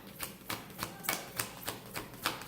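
Oracle cards being handled and shuffled close to the microphone, producing a regular series of soft, crisp slaps and flicks, roughly three per second, alone with no talk.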